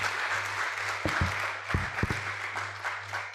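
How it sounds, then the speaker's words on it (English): Audience applause at a medical symposium and journal launch following a talk, a steady broadband patter of many hands with a low hum underneath and a few louder bumps, moderately distant and continuous throughout. "Please can we give her another round of applause?"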